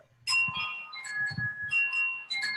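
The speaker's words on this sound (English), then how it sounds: "I like the chimes in the background." Soft bell-like chimes ring in an outdoor setting, a few clear tonal strikes overlapping and sustaining at moderate level over a low background rumble, with no talking.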